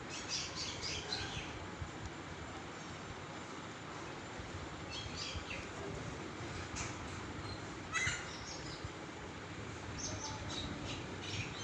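A large flock of mynas gathered together calls and chirps in a busy outdoor chorus, with bursts of sharp chatter rising over a steady background hum.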